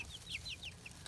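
Backyard hens give a rapid series of short, high clucks and chirps, about six quick calls spaced close together, faint and close against a quiet low hum.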